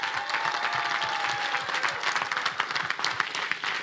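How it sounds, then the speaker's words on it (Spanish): Congregation at a Sunday church service breaks into steady, dense applause throughout, a full room of hands clapping with a brief tonal note early on and no talk over it. "Y yo quiero que le dé un fuerte aplauso a cada valiente que se esforzaron para ir."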